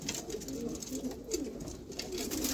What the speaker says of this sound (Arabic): هاي الزواجل